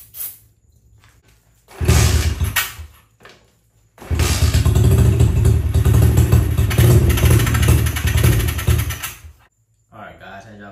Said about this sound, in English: See, it started up on the starter fluid,